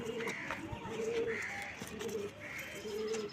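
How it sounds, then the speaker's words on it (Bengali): Pigeons, five of them kept in a box, coo softly in repeated rolling phrases, a few overlapping, with faint chirps and room noise behind and no one speaking. "এখানে আছে 5টা পায়রা, ঠিক আছে।"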